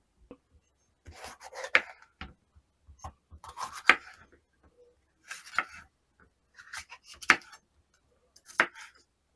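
A knife cuts a bell pepper into strips on a board while preparing Thai-style meat with vegetables: a handful of crisp, spaced chops with light scraping in between, close and fairly quiet.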